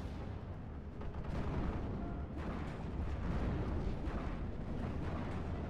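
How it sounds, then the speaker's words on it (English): Incoming artillery explosions rumble in a WWII real-time strategy game battle, a dense, continuous low roar of distant blasts with no clearly separated booms, steady and loud throughout. "We do got more indirect fire coming in."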